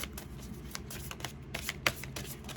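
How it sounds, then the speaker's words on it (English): Tarot cards are shuffled by hand, a steady, soft riffling and flicking that goes on throughout, close and quiet with no talk. "One more shuffle. One more shuffle."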